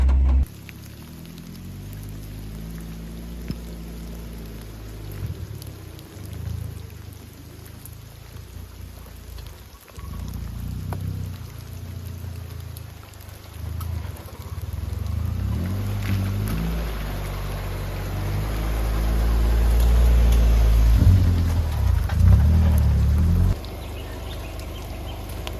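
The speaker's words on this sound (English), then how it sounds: "the rain has been coming down so hard now that everything's flooding." Heavy rain pours down outdoors in flooding conditions, a continuous wash of falling water with deep rumbling underneath that swells louder toward the end, no talking.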